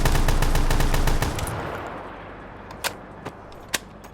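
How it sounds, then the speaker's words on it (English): In Black Ops 3, a Brecci gun fires in fast automatic bursts: a dense, loud rattle for about a second and a half, then a fading tail with a few separate sharp shots. No voice is heard. "I'm holding the trigger, and it's continuously firing like a fully automatic weapon."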